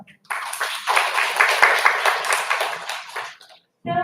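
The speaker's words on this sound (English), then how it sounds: "Let us all welcome Mr. Raghu sir with warm round of applause." An audience gathered for a talk on generative AI applauds a speaker, with moderate, fairly close clapping that builds quickly, carries on for about three seconds, then fades to silence before a voice begins.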